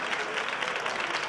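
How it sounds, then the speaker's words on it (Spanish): A studio audience on a Spanish TV talk show applauds steadily through a brief moment, a dense, even wash of clapping from many hands welcoming the host to a new season. "Recibamos esta cuarta temporada con un fortísimo aplauso al gran Javier Calatayud"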